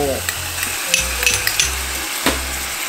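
Pork with ginger fries in a pan, giving a steady close sizzle with scattered clinks and scrapes of stirring throughout.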